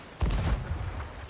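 Ship cannons firing in a Sea of Thieves naval battle: one sharp, loud boom followed by a rumbling tail and a few softer follow-up thumps, with no voices.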